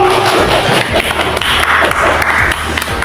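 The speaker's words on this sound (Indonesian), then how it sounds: "Tepuk tangan Ibu" Applause from an audience at a school gathering follows a presentation, a dense steady patter of hand claps lasting the whole stretch at fairly loud level.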